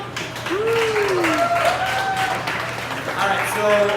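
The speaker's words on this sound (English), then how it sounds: "So clap it up." Audience applause at a burrito eating contest, moderate clapping from a crowd mixed with cheering, whoops and shouted voices throughout, fairly close and lively.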